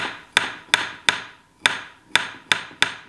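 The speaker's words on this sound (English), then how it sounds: "I am just barely tapping that out" A metal hammer lightly taps on an 1890s metal lathe headstock journal, eight crisp, sharp knocks at a slightly uneven, unhurried pace, close and clear with nothing else audible.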